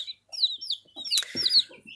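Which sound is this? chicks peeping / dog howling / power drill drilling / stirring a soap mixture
chicks peeping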